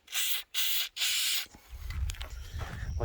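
Three short bursts of hissing aerosol spray onto a likely seized pin on a Bolens HT-23 garden tractor, close and loud, followed by faint handling and rubbing noises.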